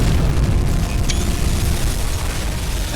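A torpedo blast against a C3 cargo ship in UBOAT, heard as a deep, rumbling explosion that rolls on without a break, with a brief crackling burst in the middle and no voices.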